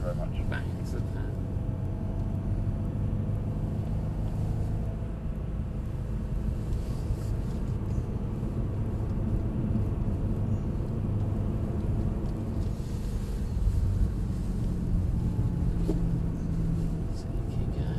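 Mercedes-Benz AMG car driving on a track, a steady loud engine rumble and road noise sustained throughout from inside the cabin, with a voice talking over it.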